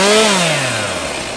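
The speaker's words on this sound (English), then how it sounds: "But then I heard a chainsaw." A chainsaw running in a garden, a loud, close, buzzing engine whine that dips in pitch as it bogs down over about a second and a half, with no voices.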